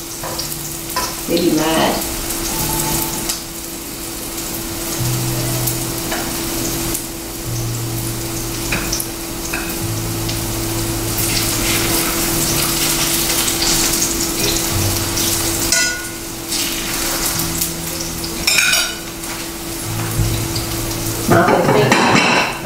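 Plantains fry in hot oil with a continuous loud sizzle, punctuated by occasional pops and crackles, while someone speaks briefly and kitchen clatter is heard.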